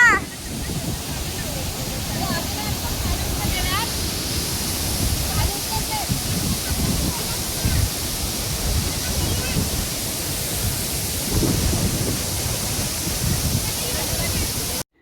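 Savat Sada waterfall near Chiplun crashes down forcefully in a loud, continuous roar of falling water that holds steady throughout.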